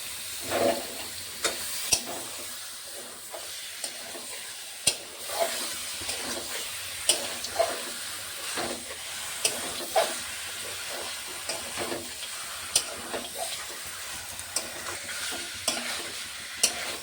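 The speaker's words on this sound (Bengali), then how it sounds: "এখন ভালো করে মাংসটাকে কষিয়ে নেব।" Duck meat frying in masala in a pan, a soft steady sizzle with regular scraping and stirring knocks of a spatula, close but fairly quiet and without talk.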